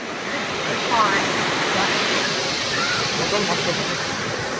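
Pallagutta waterfall roars steadily, a dense, continuous rush of falling water filling the whole clip, with a faint voice briefly audible.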